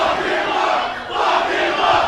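A packed wrestling audience at a Full Impact Pro event in the Orpheum roars loudly and continuously, a dense wall of yelling and cheering that swells again toward the end.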